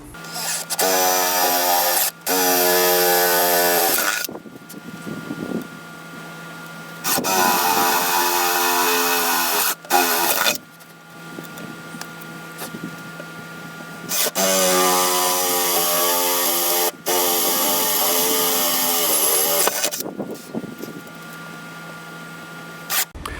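Power drill with a 3/4 inch wood bit boring through wood while mounting a TV or picture wall, running in several loud sustained bursts with brief pauses and winding down between holes, close and alone.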